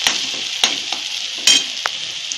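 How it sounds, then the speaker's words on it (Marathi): Onions fry in a pan, browning to golden for a dry Bombay duck masala, with a steady close hiss of sizzling oil. A spatula stirs through it several times, each stroke adding a brief scrape or clack. "कांदा आपण चांगला भाजून घेऊया गोल्डन ब्राउन कलरवरती 2-3 मिनिट।"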